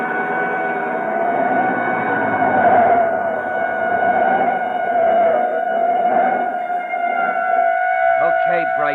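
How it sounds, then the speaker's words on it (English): A police siren in a 1940s radio drama wails, rising and falling steadily, fairly loud and continuous, with voices talking over it toward the end. "a police siren a block behind"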